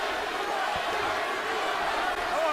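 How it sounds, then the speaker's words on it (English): A boxing arena crowd at the Timothy Bradley vs Ruslan Provodnikov fight roars steadily, a dense, continuous wall of voices chanting and cheering. "And the crowd begins to chant Bradley, Bradley."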